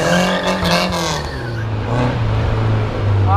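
A car at a car meet has its clutch kicked, and the engine revs hard and loud nearby. The pitch drops and then climbs again amid tire noise, with crowd voices mixed in.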